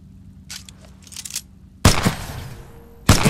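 Weapon fire on a shooting range in Titanfall 2: a few faint mechanical clicks, then two loud, sharp gunshot bursts with ringing tails, alone without talk.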